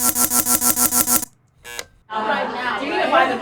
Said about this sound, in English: Obviously it's a dumbbell waiter alarm, so it's got a great character.